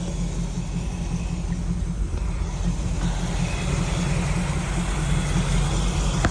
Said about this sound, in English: Engine runs great. Replacement 396. Vintage air. Go ahead, rev it up.